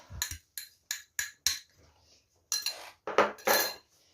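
A fork beats eggs into grated potato batter for potato pancakes in a bowl, giving sharp clinks and taps in short bursts, a few separate knocks followed by a faster run of scraping strikes, close and clear with no talk.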